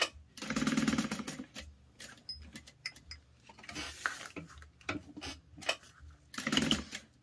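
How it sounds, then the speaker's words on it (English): A home sewing machine stitches fabric for a car trash can in close, whirring bursts with a short backstitch, separated by quiet pauses and small clicks of handling. "Just backstitched there because I kind of had the needle out of the fabric"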